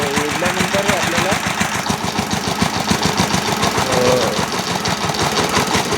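A small tractor engine runs at a steady idle, giving a close, rapid, chugging mechanical beat. Someone talks over it throughout.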